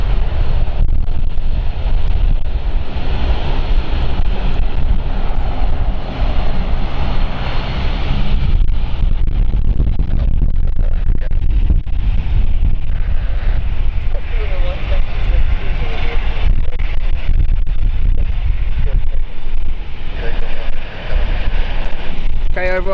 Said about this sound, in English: the airplane's doing a 180 degree turn, which is what we're witnessing right now